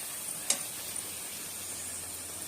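Luchi frying in hot oil gives a steady, fairly quiet sizzling hiss that runs unbroken throughout, with one small sharp tick near the start and no voices.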